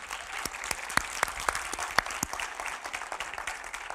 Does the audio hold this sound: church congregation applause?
yes